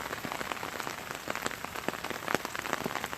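Rain falls steadily outdoors in southeastern Wisconsin, a soft, even patter of drops on surfaces with scattered sharper taps, fairly quiet and continuous with no voices.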